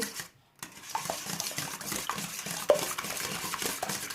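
Four eggs being beaten in a bowl for bibingka make a rapid, rhythmic clatter of utensil against bowl, close and continuous after a brief silence.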